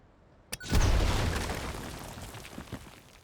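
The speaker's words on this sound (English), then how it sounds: "Let's just blow up this." A powerful explosion goes off in the factory-building game Satisfactory: a sharp crack followed by a heavy, rumbling boom that decays slowly over a few seconds, loud and close.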